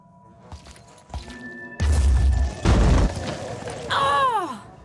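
A grenade blast in the Phoenix Point video game: a deep, heavy boom with thuds and crashing debris rolling on for a few seconds after scattered small clicks, followed by a descending whistling tone.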